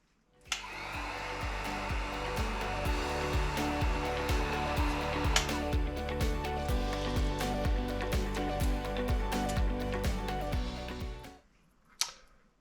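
A heat gun blows steadily on a mountain bike decal to soften it for peeling, a loud continuous whirring rush that cuts off near the end, followed by a brief click.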